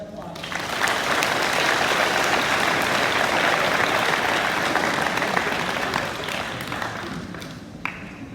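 An audience at a high school awards day applauds students receiving academic honours, a dense, sustained round of clapping filling the hall for about eight seconds before tapering slightly.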